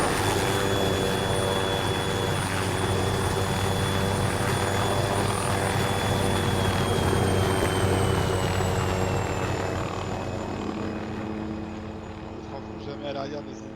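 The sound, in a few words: helicopter in a video game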